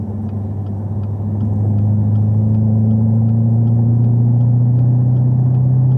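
A Chevrolet Camaro ZL1 engine rumbles low and steady from inside the cabin, swelling slightly as it accelerates, then holding a deep, even exhaust drone.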